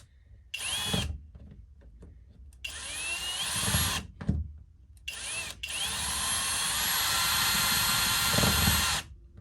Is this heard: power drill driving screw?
yes